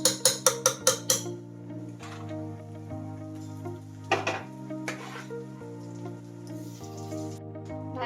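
Mashed vegetables for pav bhaji dropped into spiced masala in a pan, opening with a quick run of sharp metallic clinks and taps, then steady stirring and scraping with a low sizzle and occasional spoon knocks against the pan.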